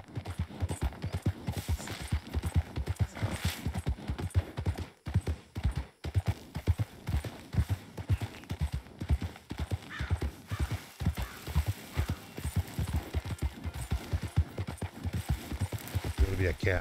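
Horse hooves pound in a fast, steady galloping rhythm in the video game Red Dead Redemption 2, close and loud, continuing throughout with a brief gap midway; a voice talks over it at times.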